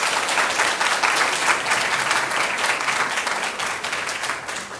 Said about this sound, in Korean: 큰 박수 맞이해 주시죠.